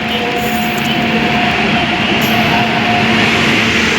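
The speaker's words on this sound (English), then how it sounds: "Janshatabdi superfast express will arrive shortly on platform number 3." A Janshatabdi Superfast Express passenger train rumbles steadily and loudly as it arrives at a station platform, with a high whine and rolling clatter, filling the space without pause.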